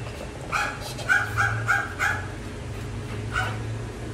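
A dog gives a short run of sharp barks and yips close by, four quick ones in a row and then one more after a pause.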